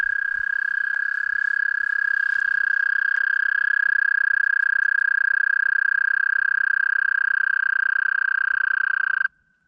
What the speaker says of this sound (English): there's all these frogs in this puddle going nuts